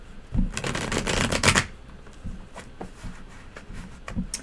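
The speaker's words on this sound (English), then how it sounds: "hopefully I shuffled this enough" A deck of tarot cards riffled and shuffled by hand, a dense burst of papery flutters over about a second, then quieter scattered card taps and handling noises.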